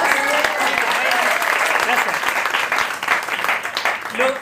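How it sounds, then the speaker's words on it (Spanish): Applause from a family gathering audience, a dense, loud burst of many hands clapping that carries steadily through and thins slightly toward the end, with voices faintly mixed in. "Un aplauso porque lo logramos."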